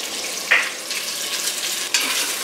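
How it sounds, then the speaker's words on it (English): Onions sweating in a pot for Maine-style clam chowder, a close, bright sizzle with two sharper bursts, likely from stirring, over a steady hiss, and no one talking. "Onions are in, let them sweat."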